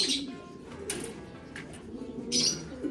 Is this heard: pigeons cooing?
yes